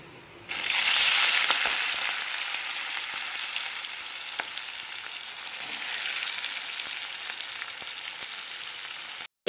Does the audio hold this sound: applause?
no